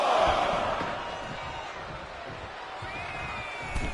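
Arena crowd in the WWE 2K25 wrestling video game cheering as a wrestler heads to ringside, a steady roar of many voices that swells at the start and stays loud throughout, with a sharp thump near the end.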